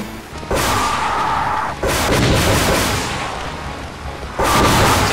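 Enemy weapons blast in the video game Final DOOM, in the plasma section, as loud sustained bursts of booming game fire: one long barrage, a brief gap, another long stretch, then a fresh burst at the end.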